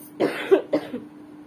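Two short, sharp coughs close by, one after another with a brief pause, then quiet.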